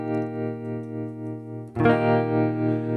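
Electric guitar through a Killer Max Twin Reverb amp emulation on the low channel: a sustained, chorus-tinged note rings steadily, then a fresh strummed chord strikes and sustains with reverb.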